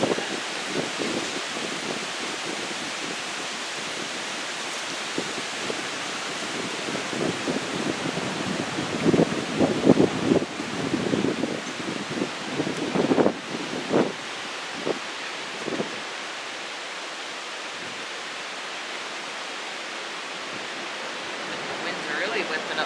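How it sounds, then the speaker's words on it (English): Strong wind from Storm Irma roars steadily across the Smoky Mountains as a dense rushing wash, with gusts and rustling swelling midway, and no voices heard. "The wind's really whipping up the mountains there."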